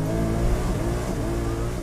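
Four-wheel-drive race car spinning its wheels at a race start on a track, a loud, steady engine roar with revving held close for a couple of seconds, no voices.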